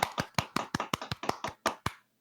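A few people clap sparsely and unevenly for a podcast's weekly champion. About a dozen sharp, close hand claps come at an irregular pace, then stop.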